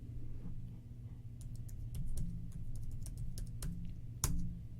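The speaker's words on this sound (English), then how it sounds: "you're going to type in Devcommands, all one word" Keys clatter on a computer keyboard as a console command is typed into the game Valheim, a scattered run of quick, light taps with short pauses and one firmer keystroke near the end, close and fairly quiet over low background hum.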